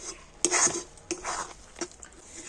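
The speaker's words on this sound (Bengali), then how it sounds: "আবারও কিন্তু খুব ভালো করে এইভাবে কন্টিনিউ নাড়াচাড়া করে দিতে হবে" Spoon scraping and clinking against a pan while a thickening kul fruit mixture for kul sotto is stirred, a few sharp metallic taps and softer scrapes in a quiet kitchen.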